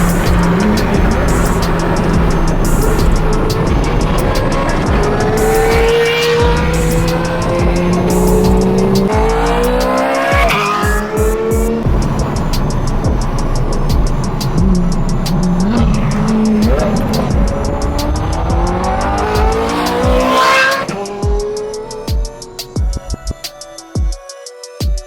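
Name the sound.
Ferrari 430 Scuderia with Agency Power titanium exhaust revving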